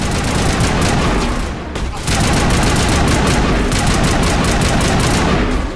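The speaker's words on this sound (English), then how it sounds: "I think we're gonna go assault rifle." Assault rifle gunfire in the video game Mass Effect, with sustained rapid automatic bursts, loud and close, briefly pausing before resuming dense firing.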